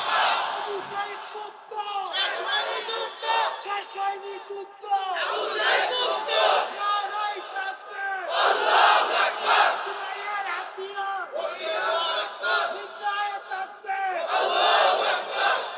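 A large religious gathering in Bangladesh shouts a slogan in rhythmic bursts, many voices roaring together in repeated call-and-response waves with short pauses between, loud and close.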